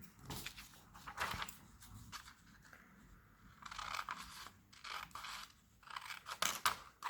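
Scissors snip through a vellum tag in several short crisp bursts, close and fairly quiet, with brief pauses and small rustles of paper between the cuts.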